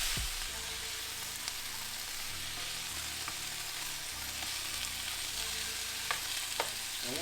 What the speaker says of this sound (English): You can see our vegetables really cooking now. That's why we went ahead and turned it up on high.